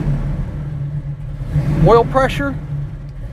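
A 1968 Chevrolet Chevelle with a big block engine, just started and not yet warm, idles with a steady low rumble under a man's close, continuous talking.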